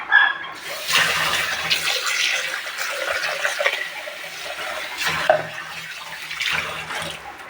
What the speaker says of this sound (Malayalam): സിങ്കിലൊക്കെ വെള്ളം പോകാൻ ഇത്തിരി പാടാണ്.